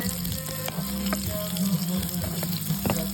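Onion, ginger, whole chili and garlic sautéing in a pan, a steady close sizzle with a few stirring scrapes and clinks throughout.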